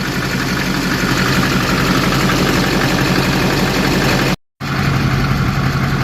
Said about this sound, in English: the truck's been idling about 5 minutes